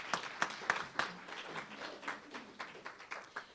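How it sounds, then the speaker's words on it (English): A small audience at a City of Bastrop mayoral address gives scattered, fairly faint applause, with individual claps standing out sharply against the softer patter. "please give both of these supporters a round of applause as well"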